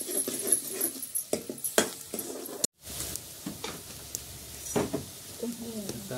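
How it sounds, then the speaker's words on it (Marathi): A leaf curry is stirred and reduced in a pan, with close, irregular scraping and clattering strokes over a soft sizzle, and a brief voice near the end. "हलवून हलवून परत आटवलंय"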